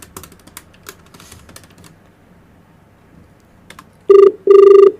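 Faint clicking and rustling, then two loud electronic telephone ring bursts near the end, each about half a second, close and piercing, during a radio prank call.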